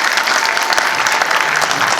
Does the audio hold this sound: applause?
yes